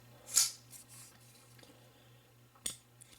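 Two sharp metallic clicks from a small liner-lock folding knife with a sticky lock unlocking, one early and one near the end, with faint handling noise between them.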